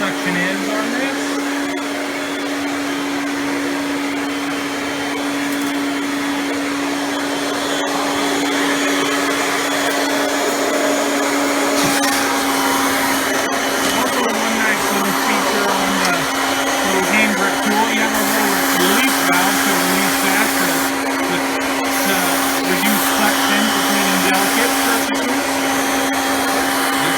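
A Kirby G6 2001 Limited Edition upright vacuum runs continuously with a loud, close motor whine and a strong rushing airflow, its pitch shifting slightly as the suction load changes and no one speaks.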